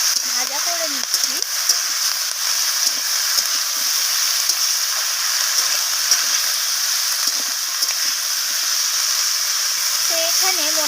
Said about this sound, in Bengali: তো বেগুনটা দেওয়ার পর আমি আবারও সব কিছুকে নাড়িয়ে চাড়িয়ে এইভাবে ভাজা করে নিচ্ছি